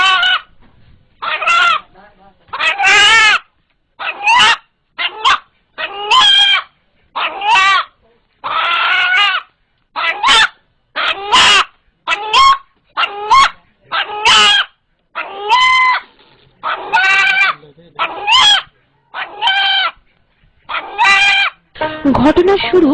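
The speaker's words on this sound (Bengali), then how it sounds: "ভয় পেলে মোরগটি যেভাবে ডেকে ওঠে" A frightened rooster cries out again and again, its loud, close calls coming in quick bursts with short silent gaps over about twenty seconds.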